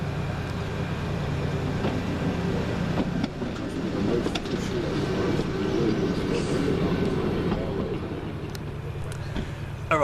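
West Midlands Railway diesel unit 172335 pulls into Stourbridge Junction station with a steady, fairly loud engine rumble and rolling noise that holds across the whole stretch.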